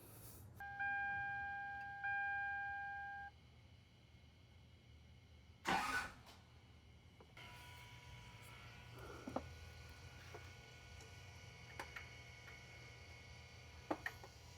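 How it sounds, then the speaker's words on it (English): A 100 Series Land Cruiser engine is bumped over briefly with the ignition to loosen the crank bolt. It gives one short, faint cranking burst after a few steady electronic tones, then a low idle-like hum. "you bump the ignition to turn the motor over to get the crank bolt loosened"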